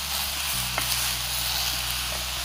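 Boiled ivy gourd sizzles steadily in a hot pan, a constant close frying hiss with a faint low hum underneath and no talking.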